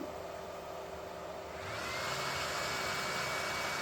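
An Anycubic Cobra 3 3D printer begins its first print: a soft, steady fan-like whir that grows fuller and louder about halfway through and then holds evenly, with no voices.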